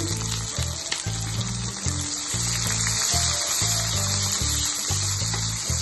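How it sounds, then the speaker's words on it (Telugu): Onions with cinnamon, cardamom and cloves fry in hot oil in a kadai, giving a steady, dense sizzle throughout with no talk, while a low, rhythmic background music pulses underneath. "కడాయి పెట్టుకొని ఆయిల్ వేసి దాల్చిని, ఇలాచి, లవంగాలు, తగిన ఉల్లిపాయలు వేయించుకోవాలి"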